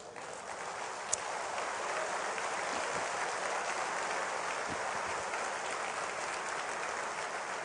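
Church congregation applauding, a dense sustained wash of many hands clapping at steady loudness throughout, with no speech over it.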